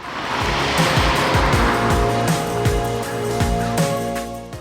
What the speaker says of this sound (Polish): czuć, że silnik spalinowy potrzebuje wkręcić się na obroty, żeby przyspieszyć